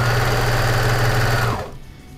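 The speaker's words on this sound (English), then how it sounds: "this is the part when you're sewing things that are super close together" Sewing machine stitching fabric for dog clothes, a steady continuous motor hum with rapid needle chatter running close and loud for about a second and a half before stopping abruptly.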